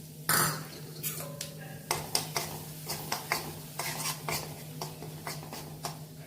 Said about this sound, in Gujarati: આપણે હવે ઘઉંનો લોટ લીધો છે, થોડો 1 ચમચી જેવો એ અંદર શેકી નાખશું।